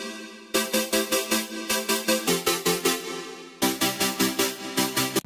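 Pulsing future bass wobble-chord synth preset chops rhythmically in fast, even stabs, a brief gap midway before the wobbling pattern resumes; loud and alone.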